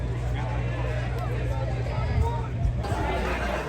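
A crowd of fans murmurs at the opening day of the 2022 Tampa Bay Buccaneers training camp, a steady outdoor babble of many distant voices with a closer voice speaking over it.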